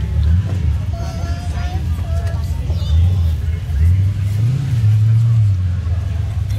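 A Ford 351 Windsor V8 in an immaculate car at a car meet runs close and loud, rising and falling through several revs over a deep rumble, with voices talking nearby.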